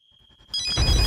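A telephone rings with a bright electronic trill that starts suddenly after a faint high tone and a few soft low thumps, loud and close, with no voices.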